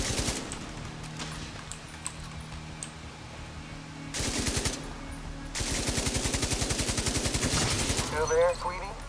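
Automatic turret fire in The Division 2 at the District Union Arena, bursts of rapid gunfire that grow louder and denser midway, with sustained rattling volleys near the end and faint voices beneath.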